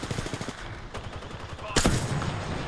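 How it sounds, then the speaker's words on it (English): Rapid gunfire in the Apex Legends shooter game, bursts of automatic shots close and loud with a heavier blast near the end, rattling over game noise. "Shots fired and they're hitting me."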